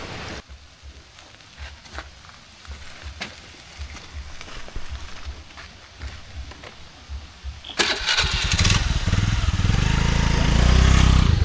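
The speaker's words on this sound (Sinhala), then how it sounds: "බයික් එක ගන්න" A motorcycle is started on a rural mountain road in Sri Lanka: faint patter and rustle first, then the engine catches and settles into a loud, close, steady idle.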